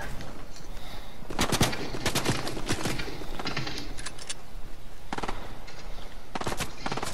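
Gunfire in the video game Fortnite, with several rapid bursts of automatic shots and single cracks that come in clusters over a steady background of game noise.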